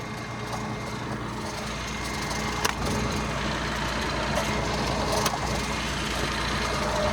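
A tractor engine idles steadily nearby with a low, constant rumble, joined by a couple of brief clanks from work on a CASE International cultivator.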